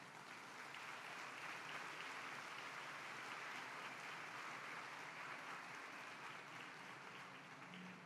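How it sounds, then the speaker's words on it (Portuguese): A congregation applauds a couple at a Catholic gathering, a steady, even wash of distant clapping that holds without pause throughout. "Uma salva de palmas para esse casal."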